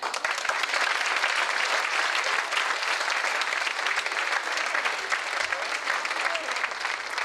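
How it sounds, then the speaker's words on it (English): Dense, steady audience applause for three judges at an evening celebrity cooking challenge event, sustained clapping from a large crowd throughout with no pauses. "another round of applause for our three judges tonight"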